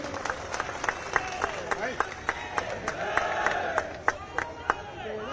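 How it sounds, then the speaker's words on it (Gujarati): Crowd applause rising at a public gathering in Gujarat as the Baroda Dairy director is welcomed, sustained clapping with scattered sharp claps and a general murmur throughout. "તાળીઓના ગડગડાટથી આપણે સૌ વધારીશું"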